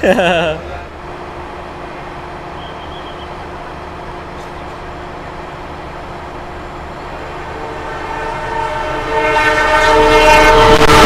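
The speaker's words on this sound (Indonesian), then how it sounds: "Setelah kereta api Mutiara Selatan lewat" The Mutiara Selatan passenger train passes a station with a steady, loud rolling rumble that swells toward the end, and a brief horn-like tone sounds near the start.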